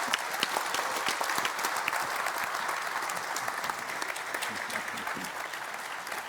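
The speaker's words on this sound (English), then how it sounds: "So let's give them a big hand" A conference audience applauds, dense steady clapping with crisp individual claps spread across the whole stretch, sustained at an even level without speech.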